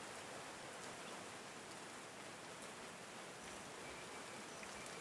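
Rain falling in the video game Call of the Sea, a dense, even hiss of steady downpour filling the whole stretch without pause, soft and constant with no voices.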